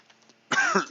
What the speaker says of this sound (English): really gotta stop coughing into the mic